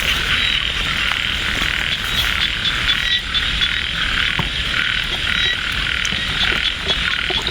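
Frogs croak in a rice field on a rainy night near Ban Na Suang, Det Udom, Ubon Ratchathani, Thailand: a dense, continuous chorus of rapid pulsing calls, loud and steady, with no voices over it.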